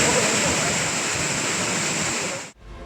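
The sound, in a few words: waterfall at Courtallam main falls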